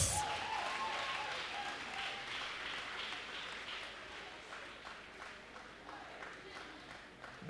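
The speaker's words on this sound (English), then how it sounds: "Clap for Jesus." Congregation applause in a church service, a broad sustained clatter of many clapping hands that slowly thins and softens over several seconds, with faint voices underneath.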